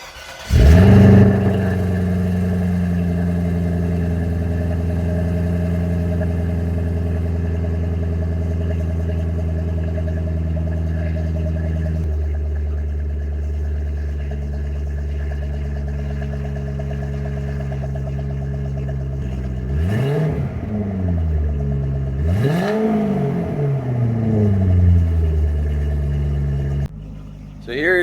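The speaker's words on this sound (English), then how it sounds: "here's a cold start on the XLR-V" A 2008 Cadillac XLR-V supercharged V8 cold-starts with a sharp crank and flare, then settles into a high, steady fast idle that gradually drops, with a couple of throttle blips near the end.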